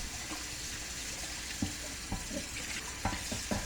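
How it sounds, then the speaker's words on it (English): Blanched chrysanthemum leaves are cooled under a running kitchen tap, a steady wash of water with a few louder splashes and handling knocks toward the end, close and without talk. "Then quickly cool under tap water."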